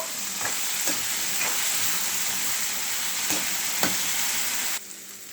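Raw banana (aratikaya) fry being stirred with chili powder in a pan, a steady broadband sizzle with several sharp scraping strokes of the spatula, close and fairly loud, ending abruptly quieter.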